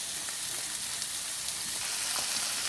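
Chicken breast seasoned with black pepper frying in a pan, a steady close sizzle with faint crackles throughout, no talking.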